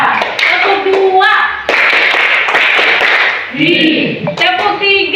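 A classroom of students performing a call-and-response clapping cheer, loud rhythmic bursts of claps in quick patterned groups, with children's voices mixed in nearby.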